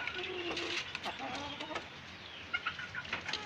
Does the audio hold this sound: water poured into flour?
no